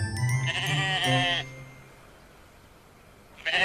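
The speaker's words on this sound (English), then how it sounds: "Mike had had trouble with some sheep." Sheep bleat in a wavering, nasal call lasting over a second, near and clear, with a fresh bleat starting at the end; a storyteller's voice runs alongside, as in a Thomas & Friends small railway engines story.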